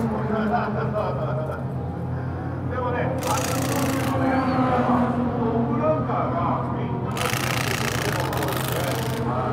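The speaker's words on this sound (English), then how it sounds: "warming up their N2 demo car here." An AE86 N2 race car engine warms up with a steady low idle rumble at Tsukuba Circuit while voices talk nearby, with bursts of broadband hiss and clatter partway through.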